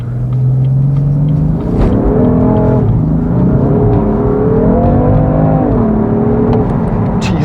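A BMW F80 M3 with a turbocharged engine accelerates hard, its loud close engine note climbing through the revs with a gear change, no voices present.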